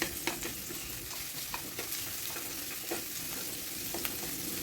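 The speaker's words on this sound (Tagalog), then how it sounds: "At i-fry lang din natin saglit mga idol." Garlic fries briefly in a pan with onions for a pork blood stew, giving a soft, steady sizzle with faint scrapes of stirring and occasional pops.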